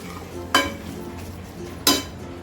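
A spoon stirs powdered biryani and Malvani masala into egg biryani gravy in a cooking pot, giving two short distinct clinks against the pot over a quiet background.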